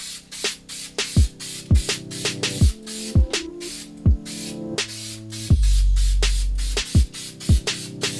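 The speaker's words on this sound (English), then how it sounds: "You're almost like spray painting it in a sense." Repeated short bursts of a spray can hissing a coating onto van-build parts, interleaved with clicks and clatter, with one longer continuous spray partway through.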